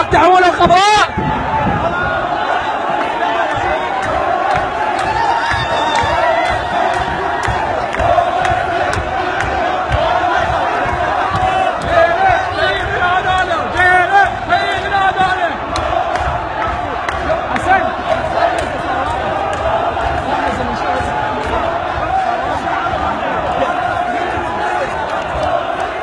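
Protesters storm the Iraqi parliament building, a loud, continuous roar of crowd shouting and chanting with overlapping voices and scuffling, close and dense throughout.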